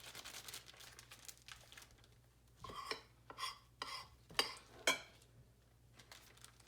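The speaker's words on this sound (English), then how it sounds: "we can take our Ziploc bags and put the paint into different Ziploc bags" Plastic Ziploc bags rustle and crinkle as they are handled and filled with homemade puffy paint, a run of soft crackles building to several sharper crinkles midway, then quieting.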